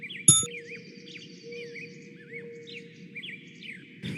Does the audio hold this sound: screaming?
no